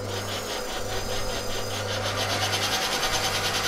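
A Sieg C6 lathe fitted with a new DC motor spins up for a test run, making a close, continuous whirring hum with a faint pulsing texture.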